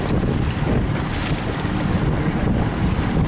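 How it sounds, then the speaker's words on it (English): Steady wind blows hard across a boat on open water, a continuous loud rushing roar with low buffeting on the microphone and a faint wash of waves. "There was a south wind this morning, an east wind now."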